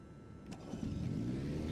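A Cirrus SR22T G6 piston engine cranking and catching in the X-Plane 12 flight simulator, a short rising rumble that settles into a steady low drone, heard close and alone.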